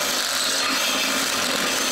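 A drill bores a hole for a bolt, making a dense, harsh grinding and whirring sound that stays steady and loud for two seconds with no talking.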